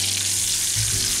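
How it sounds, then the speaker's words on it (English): Meat searing in bacon drippings in an iron skillet, a continuous close sizzle and crackle filling the short moment with no talking. "so I'll just sear it in here and then put it into a casserole dish"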